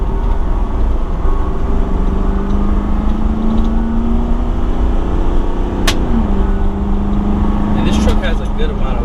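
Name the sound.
2019 Nissan Titan XD Cummins truck accelerating on highway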